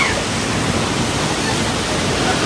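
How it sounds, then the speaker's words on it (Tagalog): Strong ocean waves surge and crash onto a shell-strewn, algae-covered shoreline at St Paul's Pool beach, a loud, steady roar of surf with no pauses and no talk. "ang lakas ng alon guys"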